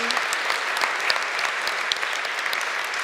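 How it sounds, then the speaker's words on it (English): Dense, steady applause from a TEDx conference audience in a hall, filling the room evenly from start to finish without pause. "Big applause, please."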